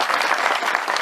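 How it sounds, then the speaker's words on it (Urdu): Audience applause for Iqbal Latif at a speech event, a dense, loud, continuous clapping from a crowd throughout. "اقبال لطیف صاحب کے لیے ایک بھرپور تالیاں ہونی چاہیے"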